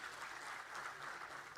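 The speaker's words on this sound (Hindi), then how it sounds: "एक बार जोरदार तालियां इस कार्यक्रम के लिए।" An audience claps at a public event in Dehradun with youth and women's community groups from across Uttarakhand, a dense, steady burst of applause from a sizable crowd, somewhat distant and heard on its own.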